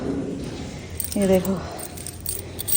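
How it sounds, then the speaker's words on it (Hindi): A bunch of house keys on a keyring jangles close by in a short, bright metallic burst, while someone talks over it. "मैं आपको अपने घर की चाबियां दिखा देती हूँ"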